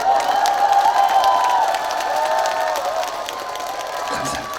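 Crowd noise with scattered clapping and cheering from an outdoor festival concert audience, moderately loud and steady, with a sustained tone running beneath.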